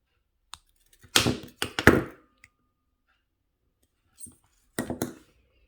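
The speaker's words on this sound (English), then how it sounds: "we'll cut that weaving wire now" Jewellery weaving wire snipped with cutters while making a wire-wrapped moon pendant: a few sharp close clicks and snaps in quick succession, then a pause and a couple more crisp cuts, with no talking.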